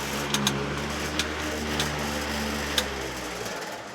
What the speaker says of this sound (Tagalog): Yan, kahit sabay-sabay, electric fan.